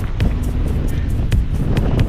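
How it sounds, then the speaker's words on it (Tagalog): Strong wind buffets the microphone in a steady roar, with low rumbling gusts and a few sharper bursts, no voices. "Ang lakas ng hangin."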